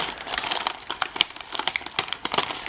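Crinkly plastic cosmetics packaging torn and crumpled open by hand, a close run of rapid crackling rustles and crinkles with no speech.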